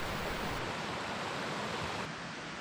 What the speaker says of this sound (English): This is Albee Creek near the Albee Campground.